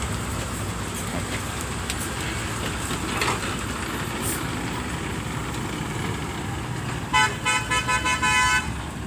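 A car horn honks in a quick series of short toots near the end, over a constant roar of traffic and engine noise.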